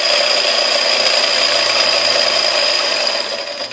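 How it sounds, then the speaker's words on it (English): A power saw runs close and loud with a steady high-pitched whine as its blade cuts through wood, holding evenly for about three seconds before easing off slightly at the end. "One hand on top, one in the handle, looking over, seeing where the blade is cutting, and cut"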